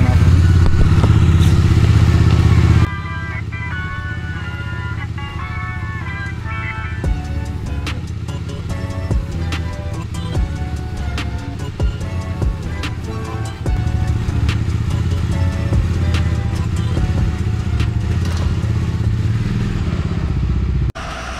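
A motorcycle engine idles and runs after a cold start, then pulls away on a ride in the rain, with a steady loud drone, shifting revs, and occasional clatter and thumps.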